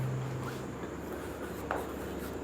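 Marker or chalk scratching across a board during a physics lecture, a faint, continuous rubbing stroke under steady room noise, ending in a couple of small taps, with no talking.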